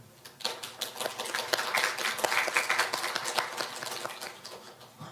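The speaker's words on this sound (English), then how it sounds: "Please welcome our moderator and speakers with a big round of applause." Applause from a symposium audience on national labour statistics, a dense crowd clapping that swells after a soft start and holds steady for several seconds, heard from within the hall.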